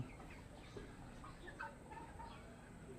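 Broiler chickens cluck softly in a few short, scattered calls, faint and close, over low background noise without talking.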